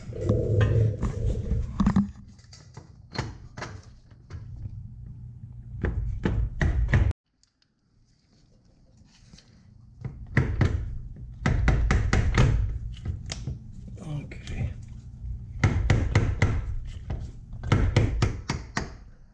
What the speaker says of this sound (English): it's just a matter of lining up the splines and then hammering it in there